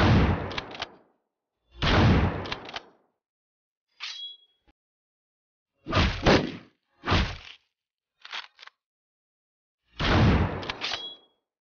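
Gunfire in the video game Hotline Miami 2 comes as sharp, punchy shots in separate bursts of one or two, some louder and some fainter, with silent gaps between them.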